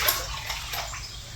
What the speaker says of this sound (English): Just dump some of this water out.